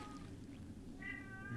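A cat gives a faint, short meow near the end of a quiet moment in a video game, heard softly over a low background hum.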